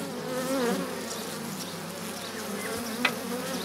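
Honeybees buzz steadily inside a hive around a young queen, a dense continuous drone of many insects close by, with a brief sharp tap near the end and no talking.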